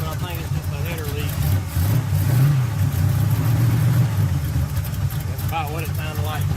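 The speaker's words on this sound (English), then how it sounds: "Smooth now and running on all 8 cylinders" A Chevrolet S10 pickup with a V8 swap runs on all eight cylinders with a possible header leak, a loud close rumbling engine idling with brief revs, and someone speaking over it.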